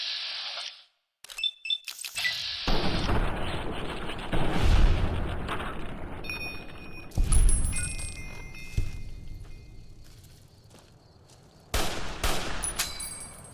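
Gunfire in Fallout: New Vegas: bursts of rapid shots and heavy booming blasts, loud and close, coming in clustered volleys with short quiet gaps, one sharp burst near the start and another loud barrage near the end.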